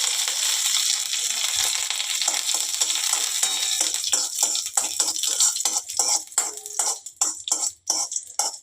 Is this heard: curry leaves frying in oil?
yes